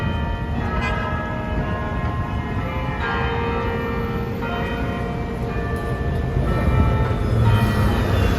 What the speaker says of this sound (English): I love church bells, so let's just enjoy it for a little bit here.